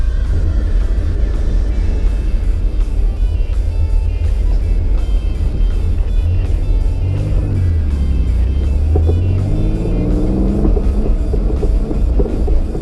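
An abandoned Chevrolet Cavalier engine revving under throttle, loud and close, with a rough roar that rises and falls in pitch over a constant heavy rumble and wind-buffeted noise.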